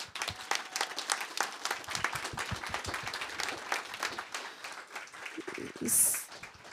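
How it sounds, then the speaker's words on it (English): Audience applause at a creative industries conference panel session, a dense spread of claps filling the room at moderate level, with a brief louder swell near the end. "another round of applause for Rosie"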